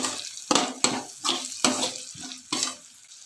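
Green beans stirred into frying onion and tomato in a pan over medium heat, giving several brisk scraping, stirring strokes with a soft sizzle underneath, close and fairly loud, no talking.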